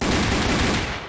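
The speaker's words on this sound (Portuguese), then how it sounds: "Agora eu vou te dar mais um tiro pra você aprender aí." Dense burst of gunfire from a Wild West-themed Roblox game, a continuous rapid crackle filling the whole moment at steady loudness, with no speech.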